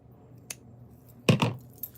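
Scissors snip through a crocheted yarn tail on a small bat figure, two quick close crunching cuts in a row after a faint earlier click.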